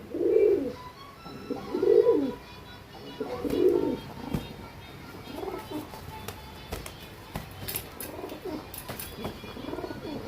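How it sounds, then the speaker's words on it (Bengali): Two male pigeons coo in loud, repeated bursts early on, then fade into softer calls and scuffling as they fight, with a faint voice in the background. "পায়রা কিনে এনেছি আর দুটো এরকম পেয়েছি আর দুজনেই মারামারি করে সারা।"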